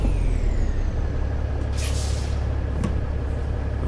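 A Volvo VNL670 truck engine rumbles steadily in American Truck Simulator while air brakes hiss in two sharp bursts over the low drone.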